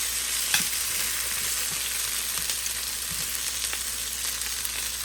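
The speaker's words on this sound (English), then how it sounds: "this is how you cook lamb chops on top of the stove in a hot skillet" Lamb chops sear in a hot skillet on the stovetop with a continuous dense sizzle and a few faint clinks and shuffles as they are moved around, no voices.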